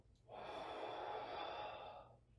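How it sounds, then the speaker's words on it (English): One long, soft exhalation through the nose and mouth during a gentle hand-exercise routine, a breathy airy whoosh lasting about two seconds, close and quiet, alone without talk. "Breathe out."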